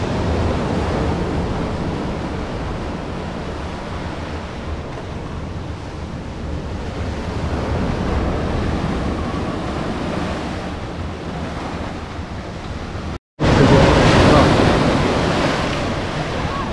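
Rough sea waves roll and crash along Charrana beach in northern Morocco, forming a loud continuous surf roar with gusty wind buffeting the microphone. The sound drops out briefly, then resumes at full strength.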